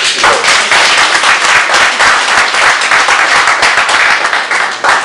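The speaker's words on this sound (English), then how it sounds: "if you would like to applaud Vince on that" Loud, dense audience applause at a forum for US House candidate Vince Coakley, steady clapping from a crowd lasting several seconds without talk.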